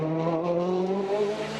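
Citroën DS3 rally car driving on a punctured tyre near a stage finish in Catalunya, a close, sustained engine drone with a steady harmonic whine, loud and alone.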